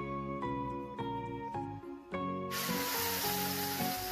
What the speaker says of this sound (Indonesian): Nah, ini kita tumis sampai harum dan sampai matang ya bumbunya.